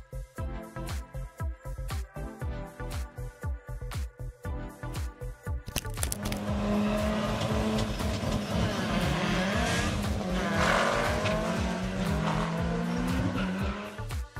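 A car launches hard, its engine roaring and tires squealing loudly and continuously for several seconds after a stretch of rhythmic thumping beats.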